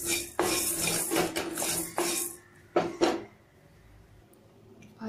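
Coriander seeds being dry roasted in a pan, with scraping and rattling strokes of a utensil against the metal that come in bursts for the first few seconds, then fade to quiet.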